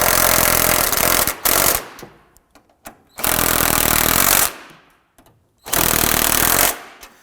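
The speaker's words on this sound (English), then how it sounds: "Let's go ahead and snug down the 3 nuts on the top." Three loud bursts of a pneumatic impact tool snug down the upper strut mount nuts on a 2008-2011 Ford Focus front strut and spring assembly, each rattling run lasting about a second and a half, separated by short quiet gaps with faint clinks.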